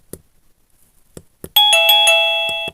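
Wireless USB doorbell chime rings out as a loud, sustained ding-dong with bright ringing tones after a few soft clicks of the button being pressed.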